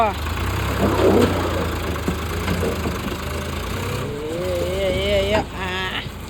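A tractor engine chugs steadily at a low, mid-pitched drone while being driven outdoors, and people talk over it throughout.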